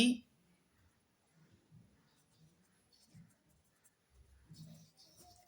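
A pen writing on paper while geometry working for a class 10 maths exercise is set down: soft, faint scratching strokes in short bursts with gaps, close and quiet, after a brief louder noise at the start.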